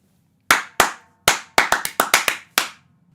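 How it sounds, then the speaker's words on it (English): Bare hands clap out a samba rhythm pattern, about nine sharp, close claps in an uneven, syncopated grouping with short gaps between phrases, heard alone with no talk. "if we clap it, it would look like this"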